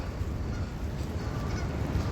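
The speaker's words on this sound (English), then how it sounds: "we got some Canadian geese. Looks like they're arguing with some mallard ducks." Canada geese honking in a noisy squabble with mallard ducks outdoors, a steady dense chorus of close, loud honks and calls with no talking.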